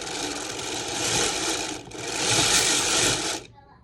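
A Dean and Bean sock knitting machine churns out a row, making a steady, dense mechanical clatter that runs in two continuous passes with a brief dip between them, then stops abruptly.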